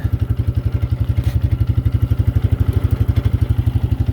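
A carbureted ATV engine on full choke with a primer kit, cold-started with a steady, rapid, chugging beat that holds evenly throughout, loud and close with no talk.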